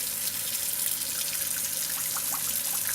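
Water runs steadily into an RV's onboard fresh water tank as it fills, a continuous close trickling and splashing with no voices.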